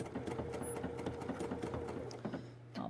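Sewing machine, a BERNINA fitted with Foot 23, stitching steadily over vintage linen, a close and continuous rapid mechanical whir with rhythmic needle clatter that shifts to a lower hum near the end.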